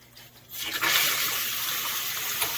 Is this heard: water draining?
yes